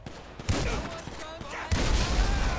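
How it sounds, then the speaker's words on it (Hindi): Shotgun blasts in the video game GTA 5: two loud, sharp bursts about a second apart, each with a booming low end, over continuous game noise and voices. "दो शॉटगन से ये हो जाता है"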